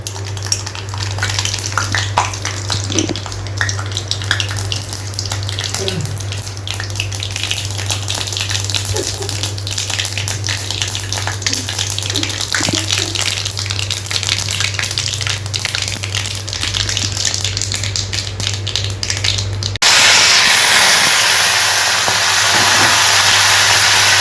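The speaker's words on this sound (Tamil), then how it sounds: "இது எண்ணெய் காஞ்சிருச்சு கொஞ்சம் கடுகு போட்டுக்குவோம்" Continuous loud sizzling and crackling of mustard seeds frying in hot oil, with a steady low hum underneath, turning to a harsher hiss near the end.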